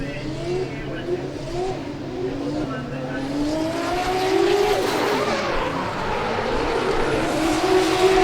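Drift car with a 600 horsepower Silvia Supra engine revving hard and screeching its tires during a qualifying run at an RDS GP round in Sochi, a loud, sustained roar rising through the clip under an announcer's voice.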